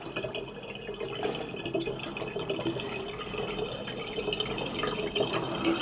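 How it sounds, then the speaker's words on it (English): Honey water for mead poured around a funnel into a jar, a continuous splashing, trickling pour with small drips, close and fairly loud throughout, no voices. "Just going to pour it around the funnel and get what honey is on there into the jar."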